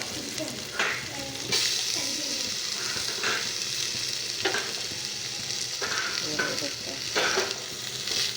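Mutton curry base fries over a high flame, a continuous hissing sizzle with occasional louder bursts and scraping stir strokes against the pan, close and steady.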